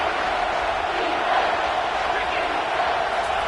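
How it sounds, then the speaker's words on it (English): A college football stadium crowd roars as it rises up late in a tied fourth quarter, a dense, loud, continuous wall of noise that swells slightly midway. "This crowd rising up, sensing that its defense needs some help."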